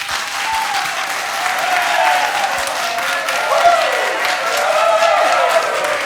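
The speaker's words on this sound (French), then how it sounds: "Peut-être un applaudissement très fort aussi" Sustained applause from a sizable audience, a continuous wash of clapping that swells slightly midway, with faint voices mixed underneath.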